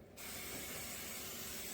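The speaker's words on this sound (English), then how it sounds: "so that my wings won't stick to the wire is I go on ahead and spray" Cooking spray hisses in a single continuous burst onto an oven wire rack, starting abruptly and holding a close, even, loud spray to the end.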